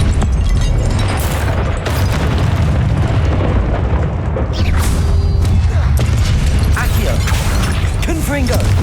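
Explosive Confringo spell blasts from Hogwarts Legacy fill the space, loud dense booming bursts over continuous rumbling combat noise with crackling debris, sustained throughout with a few sharper impacts and sweeping tones.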